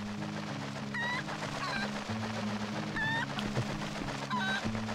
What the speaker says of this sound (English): Can I pick up the chicken?